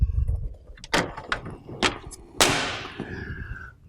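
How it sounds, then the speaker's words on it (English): A removable door panel on a GeneralAire electronic air cleaner is fitted back into place, giving several sharp clacks and thumps followed by a longer scraping slide and a final latch, close and fairly loud, with no talk. "we're going to put the door back on"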